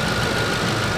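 A 2006 Ford F-150 XLT 4x4 with the 5.4 liter Triton engine idles in a steady, even rumble, close and loud with no other sounds.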